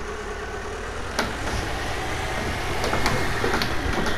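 Old tractor engine in Farming Simulator 15, a steady close mechanical drone with a few sharp clicks and knocks over it, rising slightly in loudness toward the end.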